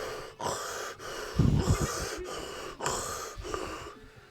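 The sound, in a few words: voice imitating rebreather breathing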